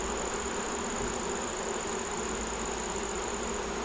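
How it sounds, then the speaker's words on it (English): A honey bee buzzes steadily and close by near a beekeeper working nuc boxes and adding supers to hives, a continuous droning hum with no talking. "I got a bee right there on my shoulder."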